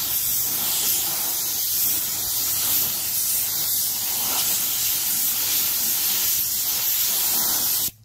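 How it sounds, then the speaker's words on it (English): A spray gun applies base coat to a car engine outdoors, a steady close hiss of atomized paint running unbroken for several seconds before cutting off abruptly. "that's basically how we're gonna spray."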